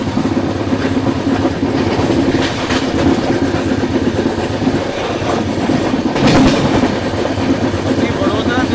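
Ahmedabad–Mumbai double-decker train 12932 in motion: a steady low rumble and rattle of the carriage with rhythmic clickety-clack over rail joints, continuous and close, swelling briefly near the end as another track or structure passes.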